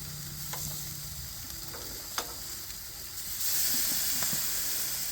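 BBQ pork chops sizzle steadily after being flipped, a loud, continuous frying hiss with a few light clicks. The hiss swells louder partway through.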